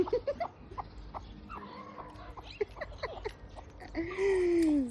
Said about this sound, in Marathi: शिवान बघा कशा कोंबड्या वळीतोय